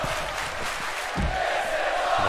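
A crowd at a live indoor wrestling event roars and cheers in a dense, steady wash of noise that swells slightly halfway through.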